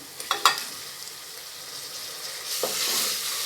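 Chopped tomato is added to a pan of ginger-garlic masala for veg biryani and sautéed, giving a soft sizzle with a few clinks of stirring and a rising hiss near the end.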